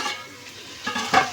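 Chopped tomato dropped into a hot pan for aloo pulao, giving a short burst of sizzling and frying hiss with a spoon scraping and stirring, close and brief.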